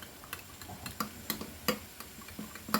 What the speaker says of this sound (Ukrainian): Це все гарненько зараз перемішаю.